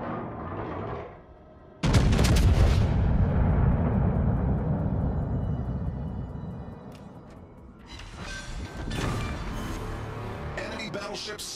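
Warship guns fire in a naval battle game, a loud booming blast that hits suddenly and rolls away, followed by further bursts of gunfire and rumble near the end.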